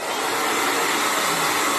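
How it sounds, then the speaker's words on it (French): A hair dryer blows a loud, steady whoosh of hot air onto a plaster mould used for making soft fishing lures, close and continuous with no talking. "Je prends le sèche-cheveux."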